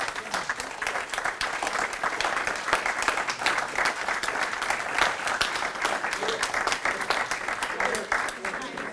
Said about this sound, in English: So if y'all would just stand up for a moment and take a round of applause.